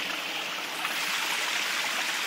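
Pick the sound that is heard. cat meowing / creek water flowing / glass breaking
creek water flowing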